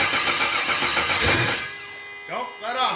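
An LS1 5.7 engine fires up for its first start, giving a loud rough burst of cranking and catching that fades, while excited voices call out over it.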